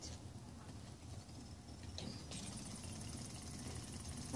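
A hovering drone in the Plants vs Zombies Garden Warfare video game gives a steady mechanical whir over a busy rumble of game noise, with a brighter high buzz rising near the middle and holding to the end.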